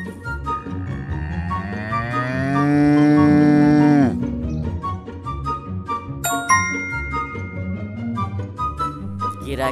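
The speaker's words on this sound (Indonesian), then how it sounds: "Sapi." A cow gives one long, loud, drawn-out moo that cuts off sharply, followed by quieter farm-animal sounds and a bright ding.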